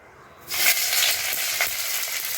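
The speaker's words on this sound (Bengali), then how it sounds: "এবার আমি পেঁয়াজটা ভেজে নেব।" Onion dropped into hot oil in a wok bursts into a bright, steady sizzle that starts suddenly and keeps frying evenly, close and fairly loud.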